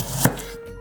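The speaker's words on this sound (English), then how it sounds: "Garlic." A single sharp knife chop on garlic lands near the middle, crisp and close, set in quiet kitchen stillness with a faint steady hum beneath.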